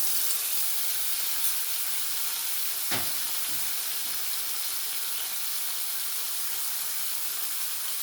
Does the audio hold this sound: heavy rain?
no